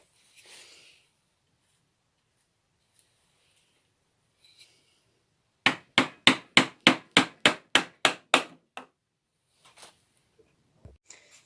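Eleven evenly spaced, sharp hammer strikes on a chisel cutting housing joints into a wooden workpiece, loud and close in a steady rhythm, surrounded by near silence and a few faint handling knocks.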